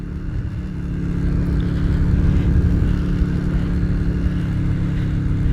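A budget bobber motorcycle with a modified carburettor slide revs out on a road test; the engine note swells after the first second into a loud, sustained roar close by.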